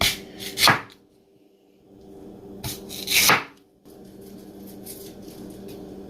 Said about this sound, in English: You want to go ahead and cut into any shape of your choice.